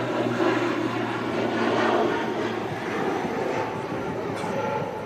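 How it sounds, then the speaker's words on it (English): Loganair ATR 72 turboprop departing Manchester Airport, a loud steady engine roar with low propeller drone holding throughout, broad and continuous with no talk over it. "The aircraft just departed."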